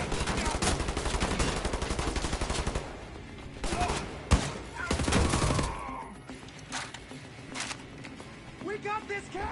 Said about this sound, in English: Did he just shoot me in the back?